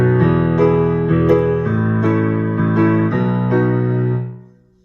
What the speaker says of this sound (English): Here, that pre-chorus pattern could look and sound like this.